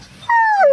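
A single short, rising-then-falling Bluetick Coonhound whine or yodel-like vocalization, close and fairly loud, with a soft breathy start.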